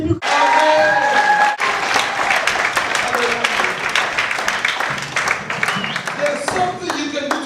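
A church congregation at a convention service claps loudly and continuously, with voices and some tonal sound mixed into the dense applause.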